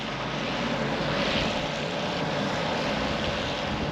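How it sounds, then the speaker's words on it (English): Volvo F7 truck with an Eminox exhaust driving up the road, a continuous broad engine roar that stays steady and fairly loud throughout, with no talk. "Dad's just taking the F7 up the road with the Eminox on."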